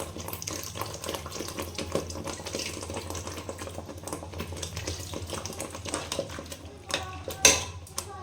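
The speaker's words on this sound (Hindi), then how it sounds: "अभी जो है ना मैं पानी ऐड कर रही हूँ" Water is poured into a pan of bitter gourd curry with tamarind while cooking in a home kitchen, a soft steady pour with light clinks of utensils, ending in a brief louder clatter near the end.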